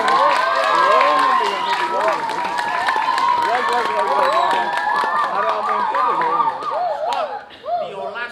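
An audience at a Balinese drama gong performance by Sekaa Drama Gong Satya Dwipa Swari claps and cheers, dense applause with raised voices that thins out toward the end.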